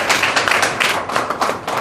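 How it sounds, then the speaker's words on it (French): An audience at a product presentation claps in a dense, moderate burst of overlapping hand claps with a slightly uneven rhythm, sustained for a couple of seconds. "je vais vous demander d'applaudir vraiment pour ces produits"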